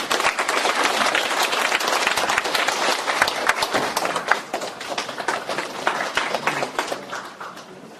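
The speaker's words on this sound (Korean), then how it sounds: "큰 박수 부탁드립니다." An audience at a lecture forum claps as a professor is welcomed, with brisk, crowded applause that is loud at first and then gradually thins out toward the end.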